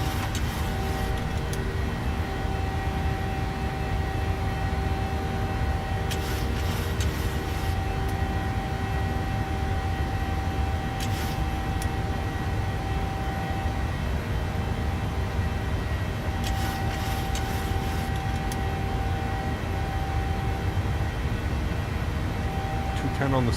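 Airliner engines at climb power in a flight simulator on an Australian Virgin route, a steady loud drone with low rumble and tonal hum throughout, with a few brief higher-pitched bursts.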